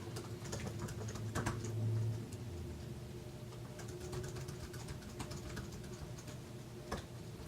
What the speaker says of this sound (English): type in an email